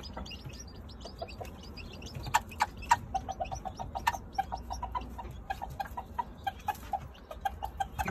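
A black hen with newly hatched chicks gives soft, repeated clucks and chirpy calls in a steady uneven rhythm, close by in a quiet yard.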